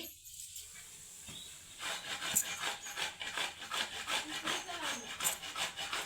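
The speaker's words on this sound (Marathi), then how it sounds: "त्यासाठी खोबरा किसून घेत आहेत" Coconut is grated by hand for traditional laddoos, starting with a few faint scrapes, then a steady rhythm of rasping strokes close by, repeated roughly twice per second.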